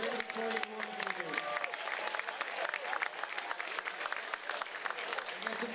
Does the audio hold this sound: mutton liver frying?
no